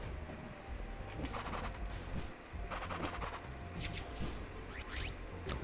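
Overcharged Mixmaster gun in the video game Spiral Knights firing in a steady burst of rapid repeated shots over a dense, loud game soundscape, with sharp whooshing bursts cutting through at intervals.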